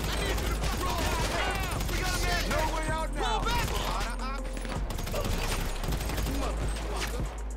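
Enemy gunfire in GTA Online during a Los Santos Drug Wars mission: dense, continuous volleys of rapid shots crackle loudly throughout, layered over steady game noise, with a voice talking underneath.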